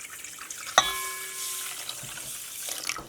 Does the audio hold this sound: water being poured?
yes